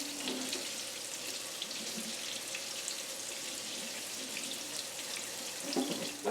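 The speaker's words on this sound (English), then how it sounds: "let me wipe off my plate" Tap water runs steadily into a kitchen sink while a plate is wiped off during fish cooking, a continuous hissing stream at moderate distance with a few clinks near the end.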